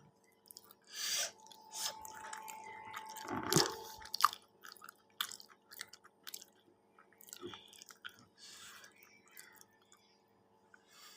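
Someone chews food close to the microphone, with soft wet smacking and occasional crunchy bites in irregular bursts amid quiet pauses, and no talk.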